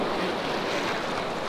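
Ocean waves at Lover's Beach in Cabo San Lucas, a steady, close roar of surf mixed with wind rumble that holds evenly throughout, no talk.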